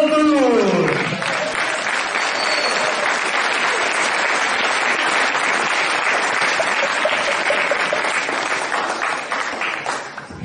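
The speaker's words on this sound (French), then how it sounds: "Merci d'applaudir" A crowd at a French Pro A men's table tennis match applauds a player being introduced, steady dense clapping for about ten seconds, with a voice briefly audible at the start.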